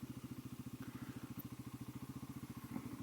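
A Genuine G400C motorcycle engine thumps in a fast, even rhythm while riding a rough, bumpy road, heard faintly and steadily with no talk.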